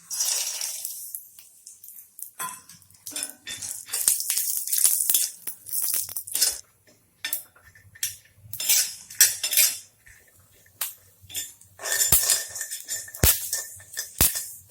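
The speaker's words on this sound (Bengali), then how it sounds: "একটু বাদাম নিয়েছি, এই বাদামটা ভেজে নেব অল্প তেলে।" Peanuts frying in a little white oil in a wok, stirred with a metal spatula, giving repeated scraping and clinking bursts with short pauses between strokes, close and fairly loud, no talking.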